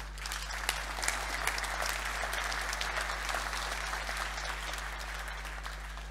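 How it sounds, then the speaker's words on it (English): Steady conference-hall applause for on-site operations staff at an emergency services opening session, a dense even wash of clapping sustained throughout over a low electrical hum. "Let's give them a deserved round of applause"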